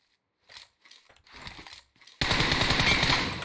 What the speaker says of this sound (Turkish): İleriden silah sesleri.